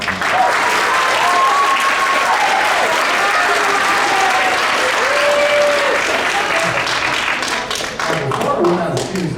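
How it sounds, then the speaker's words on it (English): Audience applause at a seventh grade winter school concert after an alto saxophone solo, a dense, steady clapping crowd filling the room at close range throughout, with some voices mixed in. "Round of applause for Ryan."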